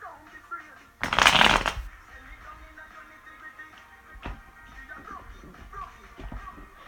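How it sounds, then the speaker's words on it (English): A deck of tarot cards is riffled in one loud, crisp shuffle lasting under a second. Afterward quieter rustling and handling noises follow, and a person talks through parts of the clip. "I'm shuffling, I get some resistance."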